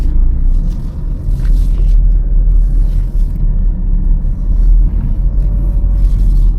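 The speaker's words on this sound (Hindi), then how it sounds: "चलो गाड़ी अंदर डालते हैं।" A car rolls into a garage with a steady, loud low engine rumble and faint scraping, close by and without talk.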